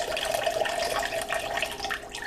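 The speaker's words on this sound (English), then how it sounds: "And I'm going to fill the rest up with water." Tap water pours to top up chicken broth for smothered baked turkey wings, a steady close splashing stream running without pause and with no talking.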